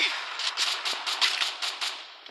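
A rapid series of sharp, repeated gunshots from a video game, about a dozen bursts in quick irregular succession with a muffled, compressed quality.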